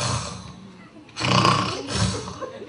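A comedian on stage at a comedy club imitates a normal snore with his voice, giving a couple of rough, breathy snore sounds close to the microphone.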